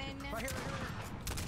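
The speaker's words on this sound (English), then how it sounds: "I hear gunshots." Gunfire from an online multiplayer shooter game, a dense burst of overlapping shots with a continuous rattling texture across the short moment, loud and close, with no speech over it.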